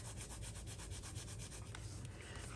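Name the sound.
rubbing a paper card by hand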